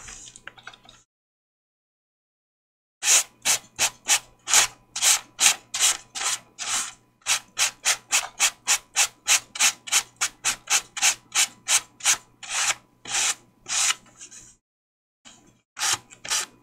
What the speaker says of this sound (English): And then just took my sand block over to the side here, did the same thing.